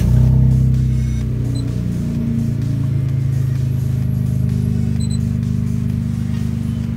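Toyota Wigo Gen2 car engine idling steadily, a loud, continuous low rumble that holds even throughout, heard up close with no talk.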